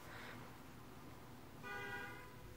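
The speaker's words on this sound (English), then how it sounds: "Oh, they honked, so that means they liked it." A car horn honks outside, faint and distant: a short toot, then a longer, steadier honk, heard over a low background rumble with no speech.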